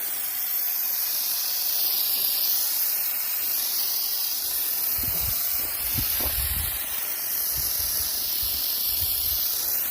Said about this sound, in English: I'm going to spray this. I like the gel.